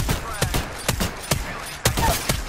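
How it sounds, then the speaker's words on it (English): Rapid gunfire in Apex Legends: sharp, loud shots crack out in an irregular burst of about eight, with a brief low rumble between them and faint game noise underneath. "Doga's shooting at me."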